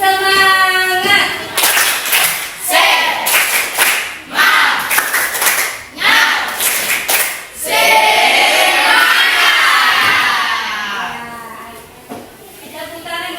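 Students in a classroom perform a 'tepuk semangat' clapping chant, several sharp rhythmic clap bursts near and loud, followed by a long stretch of group voices and shouting.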